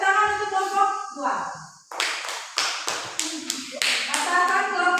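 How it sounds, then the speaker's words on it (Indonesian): Children in a classroom clap for a group in quick, sharp bursts of hand claps, following an adult voice speaking at the start. "tepuk tangan untuk kelompok 2"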